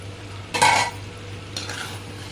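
Potatoes tossed into a pan and stir-fried, a close scraping rush of spatula against metal with a sizzle, followed by a second, softer stir a second later over a low hum.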